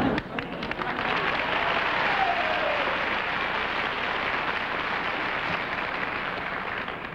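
Studio audience applause on a 1950s television panel show, broad sustained clapping that starts loud and tapers slightly across several seconds.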